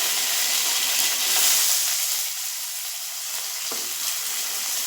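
Chopped onion sizzles in hot oil with fennel, mustard seeds, cumin and green chilli as it is stirred in a pan for banana flower poriyal, giving a steady close frying hiss with occasional stirring scrapes.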